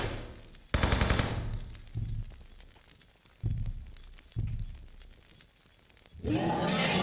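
Gunfire in the remastered video game Tomb Raider III: a loud sustained burst of rapid shots opens, followed by several shorter bursts separated by gaps, ending with another heavy sustained volley.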